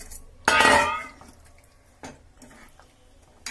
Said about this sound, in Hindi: ये सारे पीसेस डाल देंगे और चलाते रहेंगे